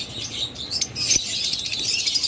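Pet birds, among them lovebirds, cockatiels and budgerigars, including violet opaline and lutino types, keep up a dense, bright chatter of overlapping chirps and tweets nearby, with no one talking.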